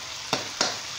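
Fried pork cracklings drop into a hot pan of long beans stir-fried with shrimp paste, bringing two quick sizzling bursts over a steady background hiss.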